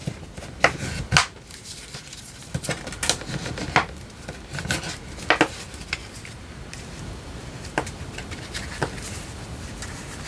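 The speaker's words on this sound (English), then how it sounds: "Just going to fold this down and burnish it." Paper is folded down and burnished to make a craft pocket, giving scattered crisp rubs and sharp crinkling clicks over a steady papery hiss, close and fairly loud, with no talk.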